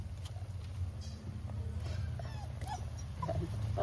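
A pet dog whines and whimpers in short bursts close by in a home kitchen, heard over a steady low hum while a fish soup with onion and salt simmers.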